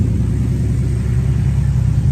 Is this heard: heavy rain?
no